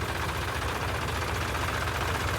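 A tractor engine idles steadily before towing a stuck vehicle, a continuous low rumbling chug that stays loud and even, with no voices over it.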